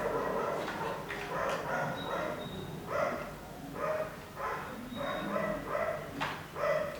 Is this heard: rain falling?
no